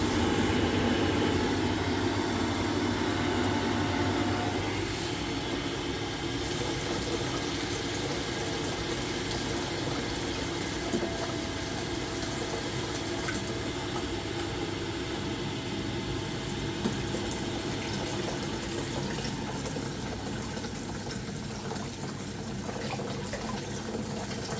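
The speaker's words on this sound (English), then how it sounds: "Now I'm opening it fully, and now we're going to switch the boiler." A Worcester-Bosch boiler running after a leak repair, a steady broad rushing and humming roar of flowing water and burner noise that continues evenly throughout, fairly close, with no talk.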